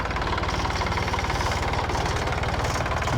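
A big tractor engine runs in a farm field with a steady, throbbing low chug and a fast regular pulse, loud and close, constant throughout with no talk.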